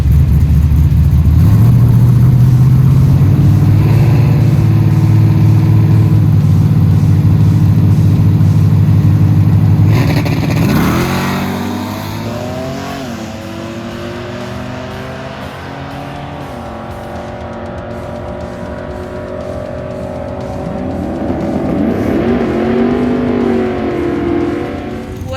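A nitrous drag car on a single-stage 100 shot roars loudly at the launch, tires spinning and rattling, then the engine note sweeps up and fades as the car pulls away into the distance.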